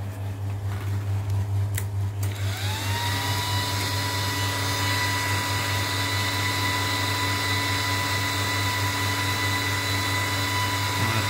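A 2 kW VHF linear amplifier switching on and running, a steady loud electrical hum and fan-like whir settling into a constant drone with a rising high whine after a short burst of clicks at the start.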